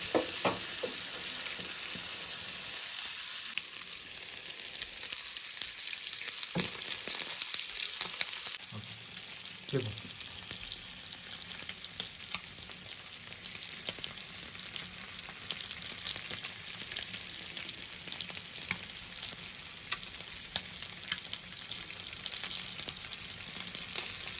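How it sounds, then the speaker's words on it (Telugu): Pomfret fish fries in a pan with a continuous bright, crackling sizzle that holds steady and close throughout, with a few faint stirring sounds near the start and no talking. "బాగా ఫ్రై చేసుకోవాలండి."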